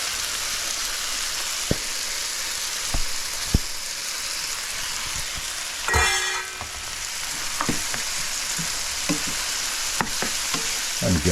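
Drained dried shrimp frying in a hot pan give a steady close sizzle with occasional clicks and pops, and a brief louder burst of stirring or spattering partway through.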